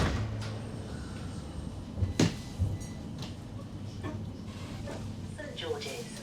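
West Midlands Metro tram doors slide and thud shut, then the tram hums and rumbles as it pulls away, with faint background noise around it.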